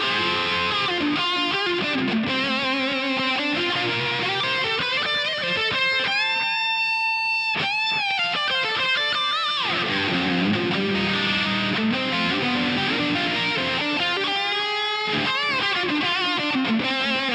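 Electric guitar through an SD1 overdrive pedal set as a boost, volume up, gain down, tones mid, played with a lightly driven tone, chords and single-note runs ringing out with a brief pause in the middle.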